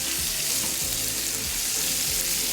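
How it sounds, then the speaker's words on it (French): Garlic and onion hit a hot pan and fry with a steady, loud, even sizzle that fills the whole moment, with no voices. "et on va maintenant rajouter l'ail et l'oignon."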